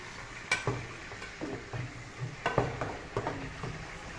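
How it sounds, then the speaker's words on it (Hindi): Fish fries in oil with a soft, uneven sizzle broken by scattered clinks and scraping taps, fairly quiet and close, with no talking. "ये मछली फ्राई हो रही है साथ में"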